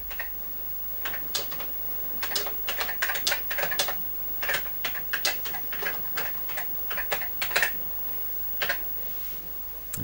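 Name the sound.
typing on ICL One Per Desk Computerphone keyboard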